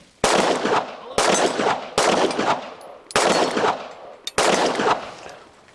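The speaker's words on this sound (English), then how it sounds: "I've never even shot a 47, so this is all new for me" A Glock 47 pistol fires five loud, close gunshots at a steady pace roughly a second apart, each with a sharp crack and a ringing outdoor tail, plus a small click between the last two.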